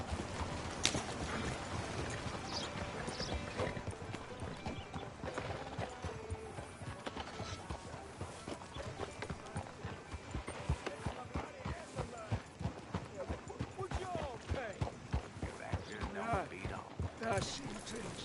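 Horse hooves galloping in the Red Dead Redemption 2 game on PS4, a steady fast rhythm of thudding hoofbeats running throughout, mixed with game sounds and voices talking over it.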